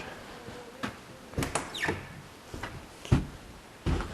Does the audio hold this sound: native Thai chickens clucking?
no